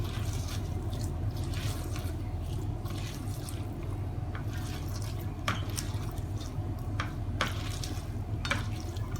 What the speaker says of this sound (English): Now, let's mix this well.